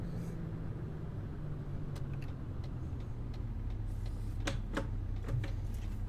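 Steady low engine drone from inside the cab of a Mercedes-Benz Actros MP3 truck in Euro Truck Simulator 2, with scattered clicks and ticks over the top near the end.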